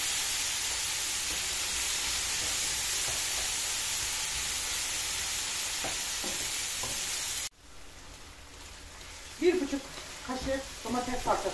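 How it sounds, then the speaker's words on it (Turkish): Ingredients sizzle in a frying pan for a home-cooked Turkish dish, a steady close hiss filling the first half, then quieter with scattered crackles and soft stirring and clatter near the end. "Malzemeni kızartayım ben şimdi."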